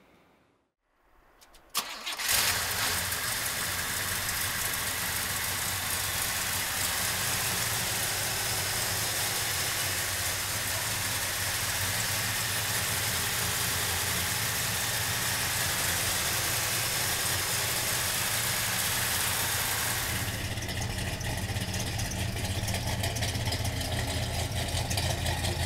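A 1970 Chevrolet Chevelle big-block V8 cranks and fires after a brief quiet moment, then settles into a loud, steady, rumbling idle that holds close and unbroken for over twenty seconds, with no talking.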